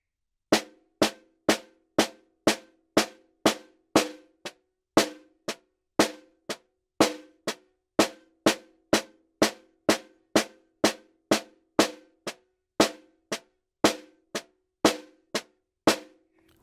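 A snare drum plays a steady exercise with accents falling on the upbeats: a long even run of crisp, dry strokes, close and loud, with no voice over it.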